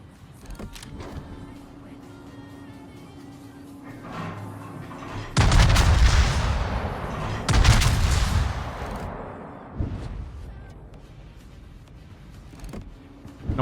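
Heavy naval guns of the Bismarck battleship fire in the World of Warships game, two loud booming salvos a couple of seconds apart with rumbling tails, standing out over quieter game ambience.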